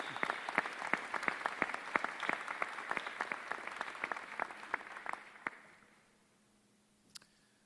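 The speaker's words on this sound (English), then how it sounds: "let's show them our thanks with a round of applause" A crowd at a University of Prince Edward Island convocation ceremony in May 2023 claps in a steady, dense burst of applause that fades out after about five seconds, leaving near-quiet with one faint knock.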